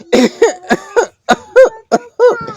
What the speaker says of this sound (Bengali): এরকম কাশতে থাও হ্যাঁ কাশো কেন